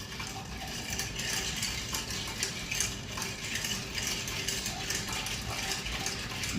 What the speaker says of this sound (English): all right, stir till chilled.